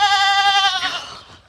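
A goat bleats loudly and close by, a strained wavering cry that fades out after about a second.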